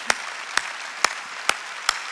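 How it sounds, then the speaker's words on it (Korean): Inside a church during an Easter Sunday service, five distinct claps sound in a slow, even rhythm over a faint background murmur, close and crisp, each followed by a brief gap. "박수 치라고."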